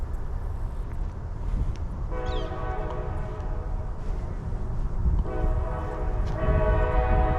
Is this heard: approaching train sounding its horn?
yes